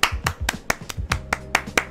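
Rapid, evenly spaced hand claps ring out close and sharp, about nine in under two seconds, with a low bass pulse underneath.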